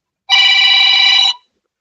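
A single clear electronic ring from a phone called through Google, a loud close tone sustained for about a second and then cut off into silence.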